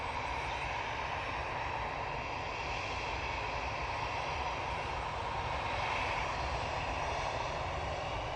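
A Virgin Atlantic Airbus A330's engines give a strong, steady jet roar with a broad hissing rush, constant throughout and close, with no voices.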